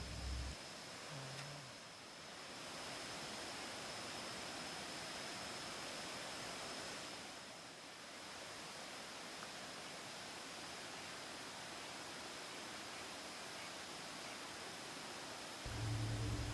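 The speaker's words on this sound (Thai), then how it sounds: "เดี๋ยวเรามาดูบรรยากาศตัวน้ำตกด้านล่างกันครับทุกคนไปครับ" Steady, even rush of water from the Pa Wai waterfall in a forest setting, a broad continuous hiss with no talking and a couple of brief low bumps near the start and end.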